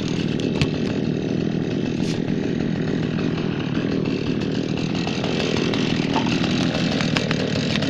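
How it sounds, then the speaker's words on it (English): A chainsaw trims red oak branches, its engine snarling loud and close without a break, with small shifts in pitch as the chain bites into the wood. "I'm gonna start trimming some of these branches."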